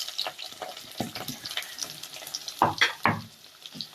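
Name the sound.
shallots frying in a pan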